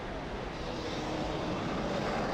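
Simulated Airbus A330 jet engines in Microsoft Flight Simulator give a broad, even roar of moderate loudness that holds steady and swells slightly toward the end.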